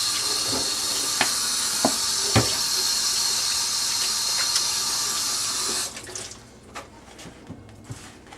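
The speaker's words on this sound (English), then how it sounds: "So now I'm gonna wash my hands." Tap water runs steadily into a kitchen sink as hands are washed, a close hiss with small splashes and drips, then the flow stops and only scattered drips and handling sounds remain.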